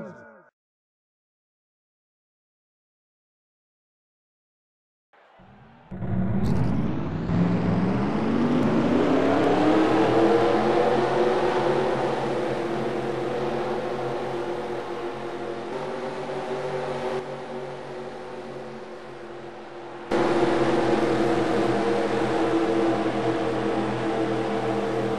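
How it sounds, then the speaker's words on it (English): Race car engines at a Geico Cup Series event burst into life after five seconds of silence, then drone loudly and continuously with rising revs and a sharper surge near the twenty-second mark. "Drivers, start your engines!"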